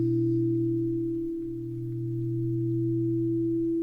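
A steady electronic signal tone from the show Pluribus hums alone, a pure sustained pitch with a lower companion tone that dips briefly mid-way before returning, continuous and unbroken.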